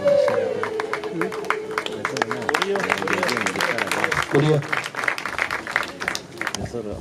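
Guests at a Kigali wedding clap warmly with a crisp, continuous patter of hands while voices carry over the applause throughout.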